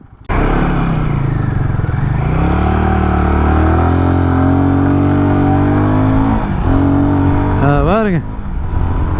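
A Royal Enfield motorcycle engine runs while being ridden, a loud continuous thumping drone with pitch rising and falling under someone speaking, then a brief rev near the end.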